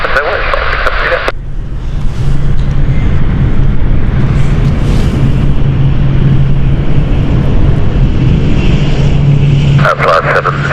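An aircraft takes off at London City Airport, a loud, sustained roar of jet engines close by that swells and holds throughout, with brief radio chatter at the start and end.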